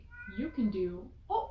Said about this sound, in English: excuse my cat if you hear my cat